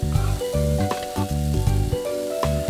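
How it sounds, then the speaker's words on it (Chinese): Tofu stir-fried with ginger, garlic, dried chili and red-oil chili bean paste sizzles steadily in a wok, with rhythmic bursts of stirring and scraping close by; tonal music plays over the frying, no voices. "干辣椒，还有红油豆瓣酱爆香，再混合豆腐炒匀"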